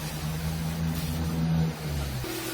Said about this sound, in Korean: 시동 걸어. 자, 시동 거는 순간에도 문제가 없고,